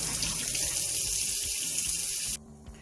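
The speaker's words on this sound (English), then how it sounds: "We're going to pop these out and wash them off and get them cool to fry." Kitchen tap water runs steadily and loudly over freshly boiled eggs in a sink for about two seconds, then shuts off, leaving a quieter room.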